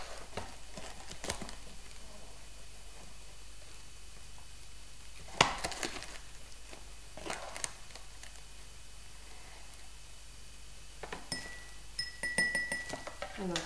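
A utensil stirs baking soda into red cabbage ink in a glass, giving a few faint, scattered clinks against the glass over quiet room noise, with a spoken voice in the background.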